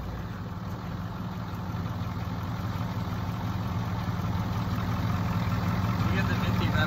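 A 7.3 IDI diesel engine in a tow truck that sat for years, running at a steady low idle with a constant rumble that builds slightly in loudness, close by.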